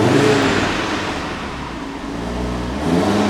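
Audi TT-RS Vorsprung engine idling in its quiet mode with the exhaust valves closed, a steady low rumble that dips slightly midway and swells again, close by with no talking.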